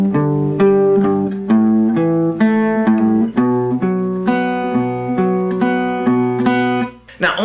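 Electric guitar playing the riff of a song in a slow, sad arrangement, with steady picked notes and chords repeating through the turnaround back into the riff, loud and close.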